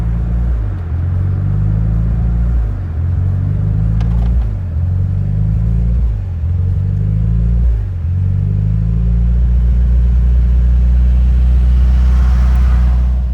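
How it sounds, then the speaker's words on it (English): A Mitsubishi Lancer Evolution engine with a faulty idle air control valve idles with a rumbling hum that repeatedly surges up and dips back down in a steady cycle, close and loud. "my idle would surge, it would spike up, it would drop back down"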